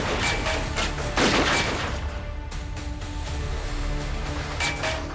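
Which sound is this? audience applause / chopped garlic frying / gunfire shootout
gunfire shootout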